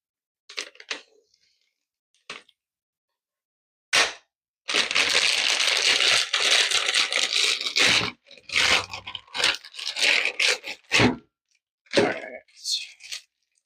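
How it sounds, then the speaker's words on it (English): A jar bottom pressing and squishing dried herbs to release their oils, giving bursts of crunchy crushing and scraping with short pauses between them. "You can always take the bottom of your jar and just lightly squish on all this stuff just to get all the oils out."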